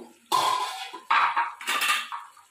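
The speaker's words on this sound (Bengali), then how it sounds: "তো বন্ধুরা ঢাকনাটা খুলে নেবো" A metal lid lifted off a cooking pot of coconut dry chicken, giving a few short clattering clanks of metal on metal at close range, with brief gaps between them.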